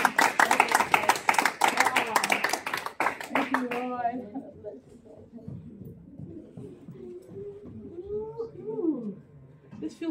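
Audience clapping in a church-style gathering in Germany, a dense burst of claps for the first few seconds that fades out, followed by voices talking.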